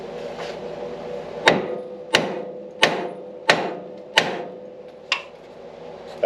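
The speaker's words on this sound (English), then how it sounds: "I'm going to grab the hammer and give that a couple smacks." Six sharp metallic hammer blows strike a suspension part on a 1963-1987 Chevrolet C10/GMC half-ton truck at roughly even intervals, each ringing briefly before the next, close and fairly loud against a quiet background hum.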